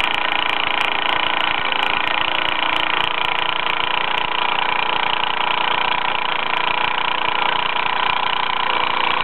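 A small Bowman M175 toy steam engine with a geared counter shaft and exhaust chimney runs under steam, giving off a loud, steady, fast chugging whir that holds even throughout.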